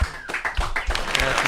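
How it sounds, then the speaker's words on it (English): A few sharp, uneven claps and slaps ring out close by, mixed with laughter-like vocal bursts, in a casual talk-show setting. "Give that fool a round of applause for that"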